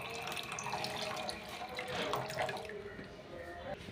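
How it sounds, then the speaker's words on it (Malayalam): Store-bought vinegar pours into a strained homemade mixture in a steady liquid stream, close by and moderately loud, trailing off toward the end. "ഇനി ഇതിലേക്ക് ഒരു 100 ml വിനാഗിരി ഒഴിക്കുക."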